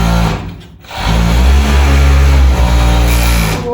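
Sewing machine stitching a sweatpants pocket, its loud, steady motor whir rising after a brief pause and running on continuously up close.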